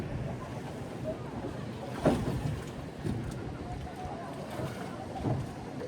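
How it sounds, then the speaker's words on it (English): A Yakatabune punt boat gliding on a lake at Arashiyama, a steady wash of water and wind noise with a few soft knocks and splashes from the pole, and a voice faintly audible in places. "I've got the whole boat to myself"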